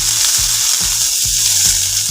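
Finely chopped onion fries loudly in two spoons of oil with mustard seeds and urad dal, a steady close hiss and sizzle with soft periodic stirring thumps.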